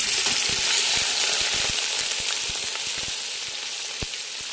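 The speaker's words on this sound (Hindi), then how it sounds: "ऑयल हमारा गर्म हो चुका है और अब हम इसमें प्याज ऐड करेंगे" Sliced onions hit hot oil in a pan for chicken biryani, giving a loud, dense sizzle with a steady hiss and scattered crackling pops that ease slightly over a few seconds.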